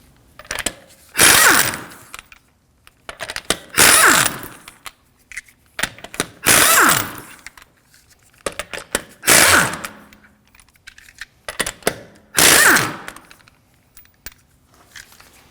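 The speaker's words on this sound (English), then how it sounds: "To remove the wheels, we're going to be using a 19mm socket." A ratchet fitted with a 19mm socket loosens the lug nuts on a 2013-2015 Subaru Crosstrek rear wheel, giving six separate bursts of close, loud clicking and whirring with short quiet gaps between them.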